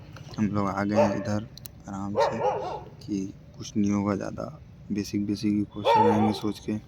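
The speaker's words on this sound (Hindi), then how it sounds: "यहाँ पे इतने कुत्ते भौंक रहे हैं" Several dogs barking and yipping in the background while a person talks over them, the barks scattered through the speech.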